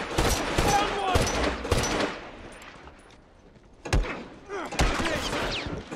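Bursts of gunfire in The Last of Us multiplayer supply raid in a downtown setting, several sharp shots and rapid volleys in two clusters separated by a quieter pause, with a voice talking in between.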